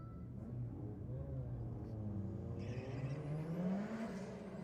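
An old Datsun and a newer Volkswagen Golf launch down a dragway strip, engines droning and rising in pitch as they pull away, heard from a distance and fairly faint, with no talk.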